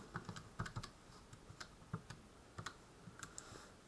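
Keys tapped on a calculator, a quick series of light, irregular clicks heard close up with no talking.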